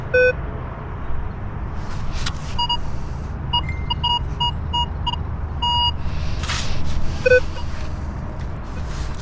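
A metal detector on a beach of a party island gives a series of short, high electronic beeps in bursts over steady wind and surf noise, with no talking.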